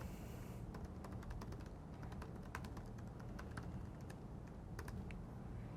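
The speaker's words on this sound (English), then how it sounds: "I'm just going to type in my school email." Fingers typing an email address on a computer keyboard, a quick irregular series of light, close key clicks over a faint steady background hum, no voices.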